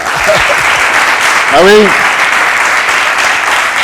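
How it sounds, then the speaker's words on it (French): Audience applause at a Burkina Faso café-style talk show, a dense steady wash of clapping from a live crowd that swells slightly midway, with a brief spoken exclamation over it. "Applaudissements pour vous."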